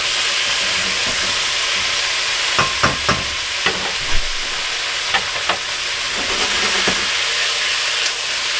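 Potatoes fry in oil in a wok for rabbit hash, a steady close sizzle and hiss punctuated by scattered clacks and scrapes of stirring.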